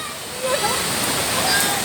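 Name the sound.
waterfall pouring at Baul Falls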